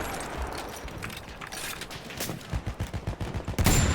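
Sustained battlefield gunfire in Battlefield 1 amid a forest fight with a tank nearby, starting as a dense wash of crackling shots and turning into a rapid, loud pulsing machine-gun burst toward the end.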